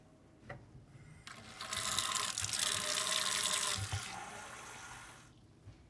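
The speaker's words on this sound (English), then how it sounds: "grab your measuring cup and add a 1/2 cup of water and a 1/4 cup of neutral oil" Water and neutral oil poured into a measuring cup while making a sweet potato recipe, a steady close liquid stream that swells in the middle and tapers off, with no talking.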